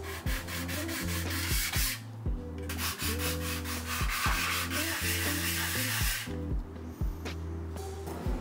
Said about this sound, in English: I'm going to sand down the whole piece